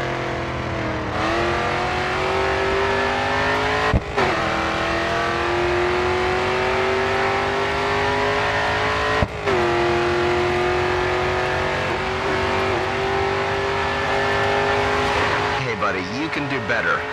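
A race car in the video game Grid 2 runs at full throttle, its engine holding a loud, steady high-pitched drone that climbs gradually, broken by two short gear-change dips and a brief tyre squeal near the end.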